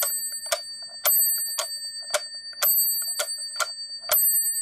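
An odd mechanical metronome ticks steadily about twice per second, with a bright ringing bell chime sounding on every third beat, close and clear with no talking.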